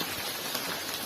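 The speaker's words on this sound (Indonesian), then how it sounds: "kondisi sedang hujan, makin deras tampaknya" Heavy rain pours down in a village, a dense and even hiss filling a brief moment with no break.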